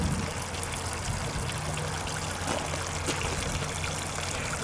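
Water pours steadily out of a GOLDROP gold-prospecting unit and runs down a magnet sluice, a continuous close trickling and splashing flow without pause.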